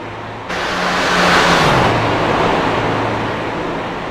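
Racing trucks roar together around Daytona Speedway in an All Pro series race, a loud sustained engine drone that swells as the pack passes close, then settles into a steady rumble.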